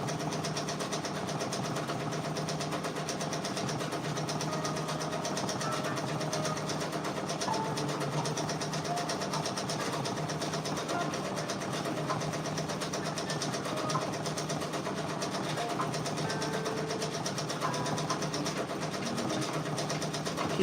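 Embroidery machine stitching out a Drake patch, a steady continuous mechanical whir with rapid needle chatter running evenly throughout, fairly loud and close, with no talking.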